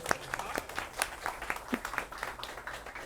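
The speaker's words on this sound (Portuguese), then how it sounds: "Então eu queria uma salva de aplausos aí." Scattered applause from a small crowd, uneven claps continuing steadily throughout at moderate volume.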